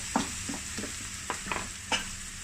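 Ginger, garlic and chili sautéing with onion for momo chutney, with a soft sizzle under several sparse scraping stirs of a utensil in the pan, close and quiet.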